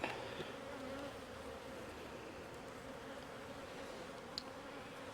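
A steady, dense buzzing of many honey bees at an open hive, close and continuous throughout, with a low droning hum and no voices.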